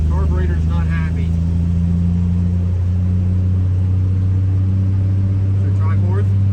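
An old 300,000-mile farm truck engine with a struggling carburetor drones steadily and close, a low uneven rumble running the whole time beneath occasional talk from people in the cab.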